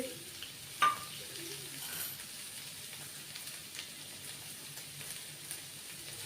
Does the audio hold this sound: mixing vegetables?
yes